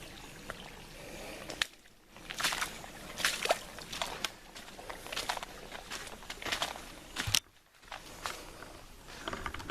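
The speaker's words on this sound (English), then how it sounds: "by the sounds of the little rapids that it makes over that root" A rising creek rushes over small rapids formed by a root. The water sounds faint and steady, with sloshing and trickling and a few louder splashes.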